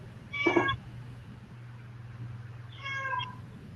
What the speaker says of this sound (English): I think I can hear my cat. Yes. Okay, you can hear her too.